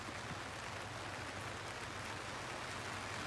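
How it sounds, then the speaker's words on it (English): Rain falling outside near an aquaponics build, a steady broadband hiss with no breaks, faint and continuous, with no voices present. "now it sounds like it's raining outside"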